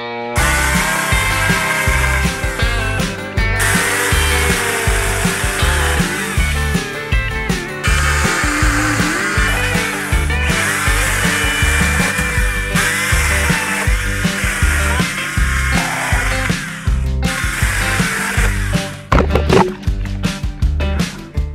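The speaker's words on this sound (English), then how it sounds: "So now I'm gonna clean this all up and chop them with a chainsaw." Makita battery chainsaw cutting through tree wood outdoors, a continuous loud whirring chain buzz that stays steady with brief dips in load as the cut progresses, no talk over it.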